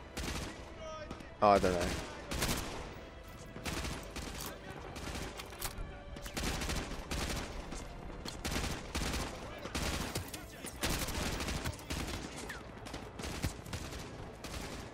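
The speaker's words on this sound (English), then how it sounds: "good old Private Wells here. He's firing at the roof?" Private Wells fires his weapon at a roof in Modern Warfare 2 Remastered, a game: repeated rapid gunshot bursts and fusillades at moderate level throughout, with someone talking briefly over them.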